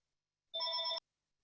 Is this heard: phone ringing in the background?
yes